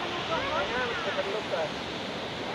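Knife Falls in Dipolog City pours in a steady broadband rush of falling water, constant and moderately loud, with faint voices murmuring beneath it.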